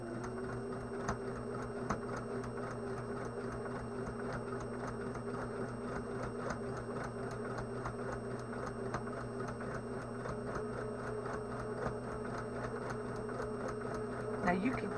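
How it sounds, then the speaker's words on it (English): Sewing machine stitching the outline of a Santa head on a mini quilt, a steady fast rhythmic whirring hum running continuously, close but fairly quiet, with a voice speaking over it. "I'm going to sew around the outline of each part of Santa's head"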